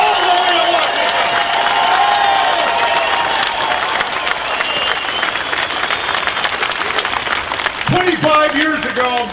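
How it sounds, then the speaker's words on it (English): A large crowd at an outdoor Tea Party rally in Wisconsin roars with sustained applause and cheering, loud and dense throughout, with shouts rising near the end. "look at this crowd"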